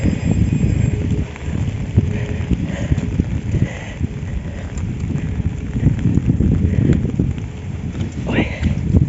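Autumn rain and gusty wind on a Moscow street, steady rustling wind buffeting the microphone with a continuous patter of rain, a voice speaking at times.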